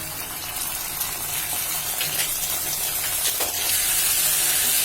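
Ginger garlic paste hitting onions frying in a pan for a beef pan pizza, a steady close hiss and sizzle that swells slightly toward the end, no talking.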